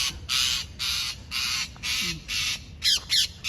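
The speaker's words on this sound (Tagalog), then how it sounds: "may ibon" A crow caws repeatedly in a steady series of harsh, rasping calls, close and loud, ending with a couple of quicker squawks.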